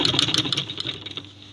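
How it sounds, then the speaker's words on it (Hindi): Sewing machine running in short bursts as stretched elastic is stitched onto balloon sleeve fabric, a close, steady mechanical whirr with a rapid needle clatter. "ये देखें यहाँ से मैं इसको इलास्टिक को खींच के सिलाई लगाती जाऊँगी"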